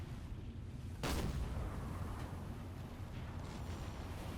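A submarine deck gun fires once in the Silent Hunter 4 naval game. It is a single loud, sharp boom with a long rumbling tail over steady low engine and sea noise.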